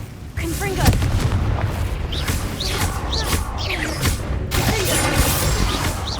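Confringo fire spell explosions in the Hogwarts Legacy video game, a string of loud booming blasts and crashes with whooshing spell effects, mixed with in-game shouted spell incantations.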